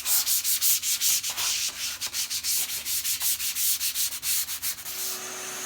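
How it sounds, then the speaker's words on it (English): Hand sanding with 100 grit sandpaper folded in thirds, scuffing a surface: a steady run of about two dozen close, loud rasping back-and-forth strokes in a quick even rhythm, with no talking. "I'm just going to scuff it up a little bit. This is 100 grit sandpaper."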